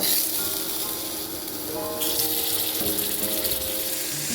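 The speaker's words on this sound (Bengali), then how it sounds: "এবার আমি মাছের মাথাগুলো ভেজে নেব" Loud, continuous sizzle and crackle of hilsa fish heads frying in hot oil, close up, with faint ringing tones over the hiss.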